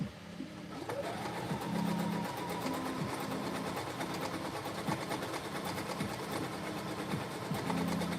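Sewing machine stitching Simplicity s9756 pants, a steady fast mechanical whir running close and continuous after a brief start.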